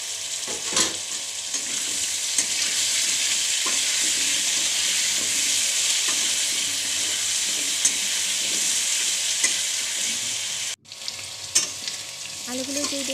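Potatoes fry in a pan with salt and turmeric, giving a dense, close sizzle with occasional stirring knocks. The sizzle drops out briefly near the end, then resumes with spatula scrapes, and no one talks.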